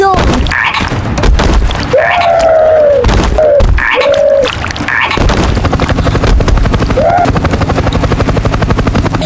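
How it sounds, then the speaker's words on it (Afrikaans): A cartoon helicopter on a dinosaur island in an Afrikaans children's episode whirs loudly with fast rotor chopping, broken by gliding tonal whoops and booming hits, then settles into a steady close rotor drone. "Daar's Lenny aan die helikopter!"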